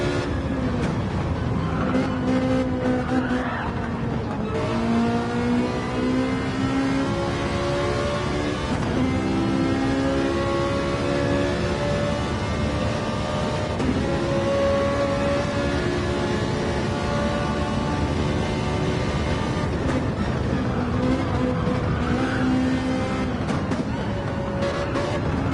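Racing cars including an Audi and a Ferrari scream through a Goodwood race in a video game, engines droning steadily with rising and falling revs as they shift up through the gears.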